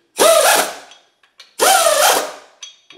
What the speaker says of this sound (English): I will bring it up until they're snugged up with the